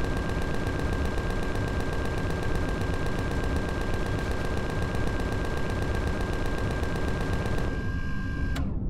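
Rapid, continuous automatic machine-gun fire in the video game Empyrion Galactic Survival rattles on steadily for several seconds, loud and unbroken, then cuts off abruptly near the end.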